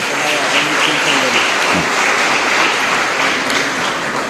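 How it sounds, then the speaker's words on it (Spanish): A chapel congregation claps warmly and continuously, a dense, even wash of applause filling the room with a faint voice underneath. "Y ahora entonces un fuerte aplauso para ellos."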